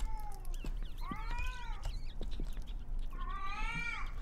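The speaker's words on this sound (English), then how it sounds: "It's a cat baby." A cat-baby creature in the horror video game Erie gives high, wavering meows in separate bursts, fairly faint over a low rumbling background with scattered soft knocks.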